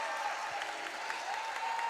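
A crowd at a high school basketball game applauds in a steady, distant wash of clapping under gym ambience, with a faint tone running through it.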